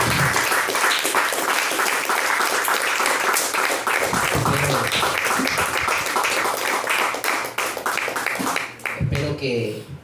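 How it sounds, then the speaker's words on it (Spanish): Congregation applause during a church sermon, a dense and sustained round of clapping throughout, with voices speaking and calling out beneath it. "Si usted le va a dar aplauso y honra a Dios"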